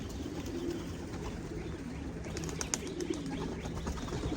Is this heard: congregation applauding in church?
no